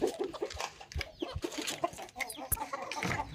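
Chickens cluck in short, irregular bursts while feeding close by. A few birds overlap with soft calls and brief sharper squawks.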